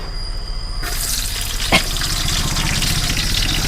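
Garlic and green chillies fry in a hot pan with a steady, close sizzle that starts abruptly, with one short clatter of stirring partway through and the crackle continuing evenly afterward.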